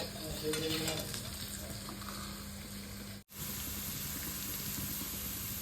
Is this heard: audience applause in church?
no